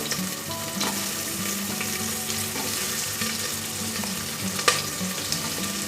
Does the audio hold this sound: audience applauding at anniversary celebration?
no